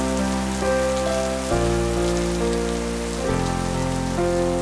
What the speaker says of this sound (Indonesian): Sebagian wilayah di kota sedang mengalami hujan yang deras.